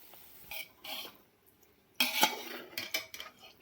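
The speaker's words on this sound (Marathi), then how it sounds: "तर आपण शिजवलेले चिकन ह्याच्यामध्ये टाकून घेऊया." Cooked chicken goes into a pot of fried onion and tomato and is mixed with a metal spoon, giving a few close clinks, scrapes and stirring clatters separated by quiet gaps.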